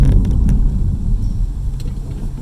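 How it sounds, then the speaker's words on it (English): A Nissan Altima Coupe 3.5 SE pulls hard out of a turn in second gear, a loud, steady low engine rumble sustained throughout with no talk. "I'm going to launch off this turn in 2nd gear."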